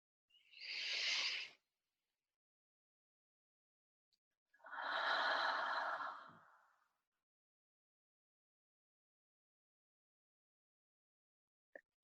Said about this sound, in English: Just take a couple more rounds of breath, expanding and releasing your breath.